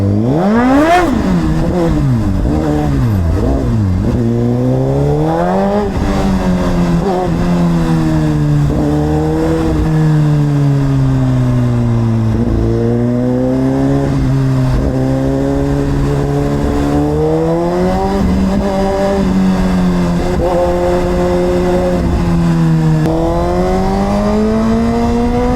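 A Suzuki GSX-R1000RR superbike engine revs hard and continuously, its pitch climbing and dropping through a series of smooth quick-shifter gear changes, loud and close with no talk.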